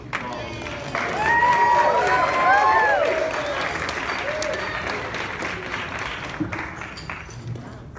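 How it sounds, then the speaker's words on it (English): Guests applaud after a wedding toast, steady clapping rising around the second second and sustained through the end, with whoops and overlapping voices from the crowd. "let's all give Noah a great round of applause for that great speech"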